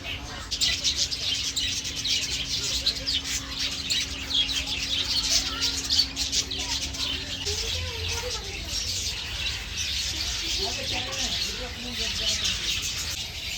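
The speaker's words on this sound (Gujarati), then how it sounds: "આ છે મેના આ તો અમારા ગામડાઓમાં પણ હોય છે" A myna calls at Kankaria Zoo in Ahmedabad, giving scattered chirps and short whistles over a bustling background of visitors' voices.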